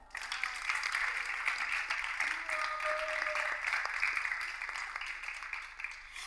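A studio audience at a televised dating show applauds as a contestant comes onto the stage, a steady wash of many hands clapping, fairly distant and even throughout, with faint cheering mixed in.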